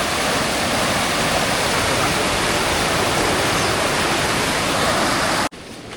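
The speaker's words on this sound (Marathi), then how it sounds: "पाण्याला पोच बघा ना, मजबूत आहे एकदम." Strong water rushes loudly and continuously, a thick roaring wash that stops abruptly just before the end.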